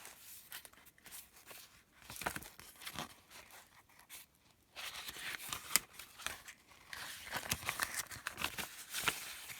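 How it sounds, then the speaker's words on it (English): Paper for a junk journal torn apart in a run of rough, crackling rips and crinkles, close and fairly quiet, with a short pause partway through. "let's rip that"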